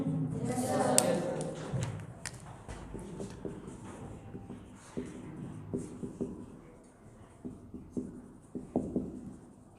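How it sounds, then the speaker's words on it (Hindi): A teacher writes an example on a classroom board during a spoken English lesson, giving a run of soft scratchy strokes and taps, close and moderately loud, with speech mixed in. "जैसे मैं एक और एग्जांपल लिख देता हूँ"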